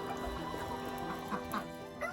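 Ducks quack on a farm in dull, wet weather, a steady busy chatter of overlapping calls from a flock with a few louder honks standing out.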